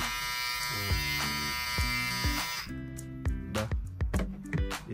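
A VGR 653 electric hair clipper running at 7,000 RPM, a steady close buzz with harmonic hum, interrupted by repeated sharp clicks and knocks as it is handled.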